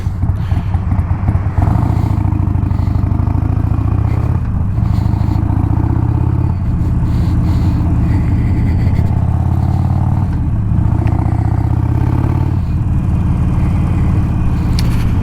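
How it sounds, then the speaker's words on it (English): Continuous loud rumble of nearby Sunday peak-hour road traffic beside a park, engines droning and revving as vehicles pass, with occasional clatter. "Peak hour traffic on a Sunday."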